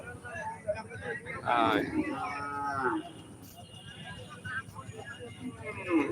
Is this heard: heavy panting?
no